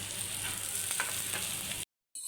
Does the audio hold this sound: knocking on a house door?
no